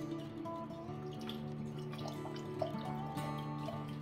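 Water splashes and trickles inside a container holding blueberry jam dye scraps as it is rinsed, with soft irregular drips and clinks at moderate distance and no speech.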